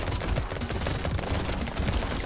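Rapid SMG fire in the video game Brotato, a dense continuous rattle of overlapping shots that stays loud and steady throughout with no pauses.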